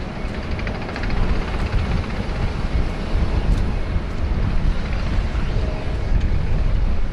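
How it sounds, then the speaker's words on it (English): A Qantas Boeing 717 jet taxis at Sydney Airport toward the domestic terminal, a steady broadband engine roar and rumble holding at a fairly loud level throughout, with wind buffeting the microphone. "we've got the QJet 717 still taxiing back"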